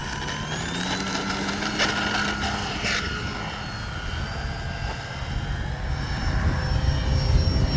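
An Arrows RC Tecnam 2010 model airplane taking off, its electric motor whining steadily and rising in pitch as it speeds down the runway and climbs, close and then drawing slightly away.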